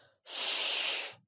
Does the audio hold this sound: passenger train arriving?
no